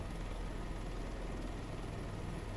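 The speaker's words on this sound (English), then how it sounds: "Today we're pretending to be an airliner while flying a helicopter. They both make turbine sounds" Helicopter turbine engine in a flight simulator video game gives a steady, unbroken whine and rumble, constant and moderately loud with no variation, no voices.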